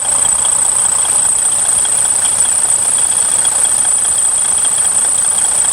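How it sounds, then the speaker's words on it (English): Freightliner DD15 diesel engine idling with noisy belts and tensioner, a steady close drone under a sharp, constant high-pitched whine that holds unbroken throughout. "The reason why I'm going to replace these belts and tensioner is because they're making noise."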